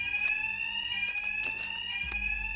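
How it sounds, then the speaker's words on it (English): Fire alarm ringing in the Batman Arkham Knight video game, a steady high electronic tone with harmonics droning loudly throughout, under a few faint thuds and a low rumble near the end. "Two-Face's thugs won't hear me over the alarm."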